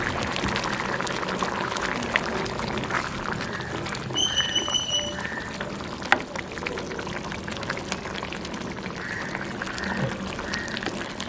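Milk-free Jaffna-style long tom fish curry boils in a pot, a steady close bubbling and hissing with a few small clinks.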